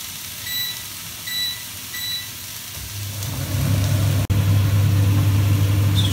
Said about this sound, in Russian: Сейчас немножко шумит вытяжка.